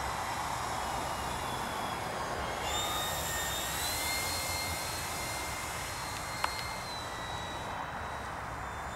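A jet aircraft flies past: a steady, distant turbine roar with a thin high whine that drifts slowly in pitch, fairly faint and with no one talking. A single brief click occurs partway through.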